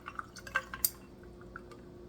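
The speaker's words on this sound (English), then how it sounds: "I'm going to pour it in." A drink is poured into a glass over ice, giving a few light, close splashes and clinks scattered across a quiet moment, with no voices.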